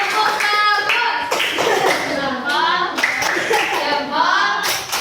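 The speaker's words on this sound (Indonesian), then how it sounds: "Tepuk tangan dulu untuk kelompok dua." Classroom of students clapping for a student group during a lesson, bursts of hand claps close by, interleaved with children's and teacher's voices.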